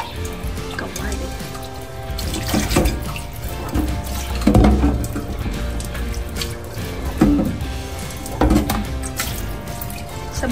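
A frying pan gets washed and rinsed at a kitchen sink, with tap water running and splashing near the microphone while dishes clunk now and then; someone talks over the water throughout.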